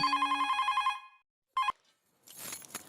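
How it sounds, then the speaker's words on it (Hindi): A telephone bell rings in a rapid trill, stops, gives a brief second ring, then noisy rustling follows. "अरे लेकिन अभी तक बाघा भाई का फोन नहीं आया।"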